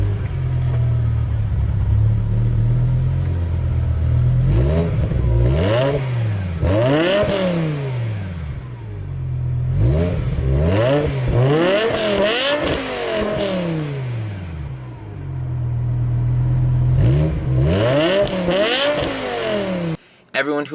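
A V10-engined car revs repeatedly in bursts, each rising howl sweeping up and falling back to a rumbling idle, with three or four loud pulls spread across the stretch.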